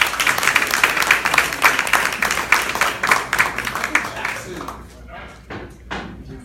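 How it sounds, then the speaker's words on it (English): A room of people claps for a guest, Ms. Brownbell, with dense, lively applause for about four seconds that then thins into scattered claps and faint knocks. "I want to give Ms. Brownbell a round of applause for coming all over the world"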